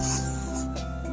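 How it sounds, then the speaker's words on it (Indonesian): WD lubricant sprayed from a can onto a knife blade, a short close aerosol hiss with a few quick bursts over a steady background hum. "Ya kita semprot dengan WD."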